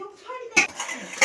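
Plates and dishes clink as rice is served onto five plates for a family meal, a few sharp clattering knocks close by over a soft background murmur.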